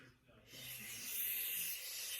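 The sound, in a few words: setting spray being sprayed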